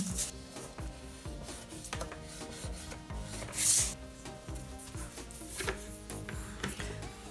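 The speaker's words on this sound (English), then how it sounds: "For the pocket, simply score here, here and here." Paper card being scored with a tool along fold lines for a small file folder pocket, giving a steady rubbing, scratchy rasp made of repeated short strokes. One louder swipe stands out midway, and no one talks.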